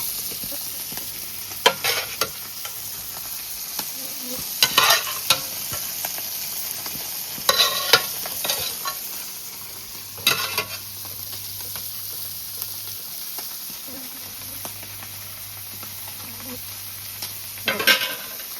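Fish frying in oil sizzles steadily up close, broken by repeated bursts of louder spattering and stirring clatter every few seconds, with a low steady hum underneath and no one talking.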